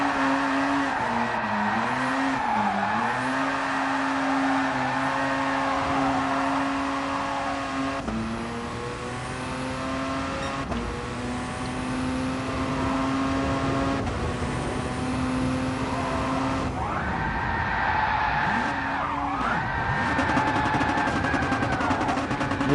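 A car drifts in Gran Turismo Sport with tire squeal riding on a steady engine drone. The pitch swoops and bends as the car slides, and the sound is continuous and fairly loud, with no voices.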